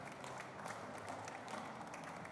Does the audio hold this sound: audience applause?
yes